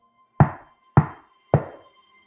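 Three firm knocks on a door, evenly spaced about half a second apart, close and dry against a faint steady hum, staged as an audio drama effect.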